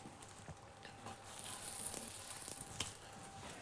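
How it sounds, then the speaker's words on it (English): Radicchio, a type of chicory, sizzling slowly in olive oil in a sauté pan, giving a soft, steady frying crackle with faint pops, close and quiet, with no talk. "And here you start to sizzle."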